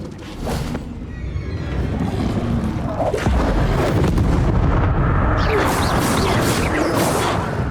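Loud explosive blasts from the Bombarda spell in Hogwarts Legacy, several booming impacts rolling one after another over continuous rumbling debris and crackle, with no gaps of quiet.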